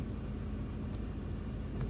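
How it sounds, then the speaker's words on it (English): A car drives close behind on a road, heard as a quiet, steady low rumble that holds evenly throughout with no voices. "there's a car behind me"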